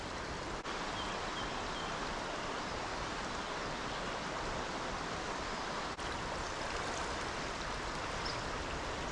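Steady, dense rushing of river rapids, a continuous broadband roar that holds even throughout without pauses or voices.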